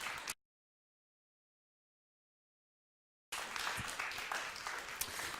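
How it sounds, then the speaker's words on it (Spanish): Audience applause at a Spanish-speaking church youth gathering; a brief burst at the start, a few seconds of dead silence, then dense clapping resuming and continuing to the end. "Un aplauso."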